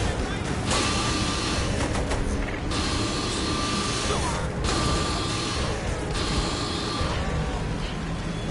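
A tank in Saints Row 3 Remastered rolls with steady mechanical clanking and ratcheting track noise, a constant loud grind broken by periodic metallic clunks, with faint voices underneath.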